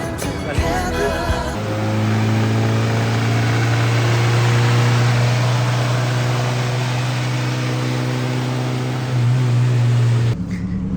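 A modified Chevy Cruze's engine drones steadily and loud while driving, a strong low hum holding throughout with a slight rise near the end before cutting off.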